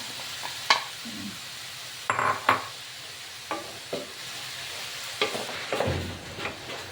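String beans and carrots being sautéed in cooking oil, with a faint steady sizzle beneath a few sharp clinks and scrapes of stirring, close by and fairly quiet.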